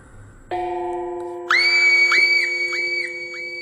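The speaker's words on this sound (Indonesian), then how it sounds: "Hyemi pun sontak menjerit karena melihat" A woman in a Korean TV drama screams in shock. A sustained tonal cry enters abruptly, then jumps to a louder, higher scream with wavering inflections, loud and close with no other sound.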